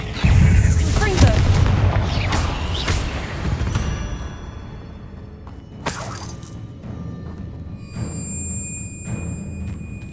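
A Confringo fire spell blasts in Hogwarts Legacy with a loud, booming burst and crackling debris, followed by a second sharp impact and a fading rumble under faint game tones.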